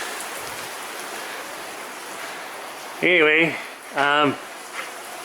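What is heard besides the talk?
rain falling outside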